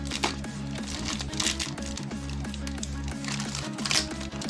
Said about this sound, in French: je vais ouvrir le plastique